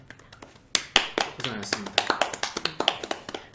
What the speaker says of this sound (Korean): 그분께도 박수를 보내드리고 싶습니다